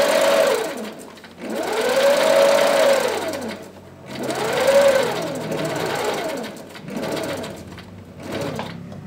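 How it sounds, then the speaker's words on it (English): A sewing machine stitches a quarter-inch seam on a quilt block in bursts, its motor whirring up and down in pitch for several runs of a few seconds each, separated by brief pauses. "I'm just lining up my edges, sewing a 1/4 of an inch seam, just like if any standard piecing."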